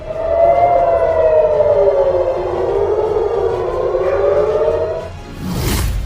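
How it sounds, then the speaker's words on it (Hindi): A loud civil defense siren in Israel wails during a Hamas rocket attack, with a long, slowly falling tone that fades near the end, followed by a brief noisy burst. "हर तरफ सायरन बज रहे हैं"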